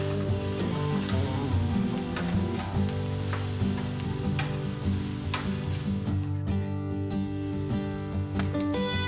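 A T-bone Florentine steak sears in a hot pan with a loud, steady, crackling sizzle that runs unbroken throughout, close up and with no voices.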